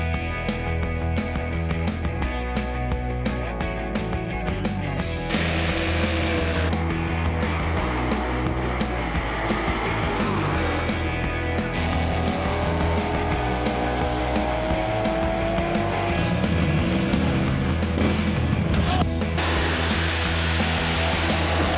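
A drag racing car does a burnout, a loud, sustained engine roar blended with hissing tire-spin noise that shifts in intensity over about twenty seconds, with no one speaking.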